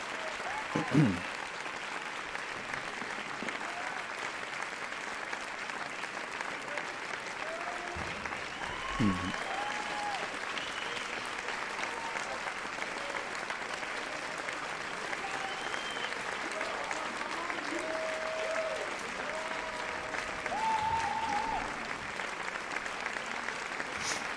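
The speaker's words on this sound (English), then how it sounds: "Let's have a little applause while I get the next category ready." Sustained audience applause during a live-streamed game awards show, steady clapping filling the whole stretch at an even level, with a few brief louder bumps near the start and scattered tonal blips over it.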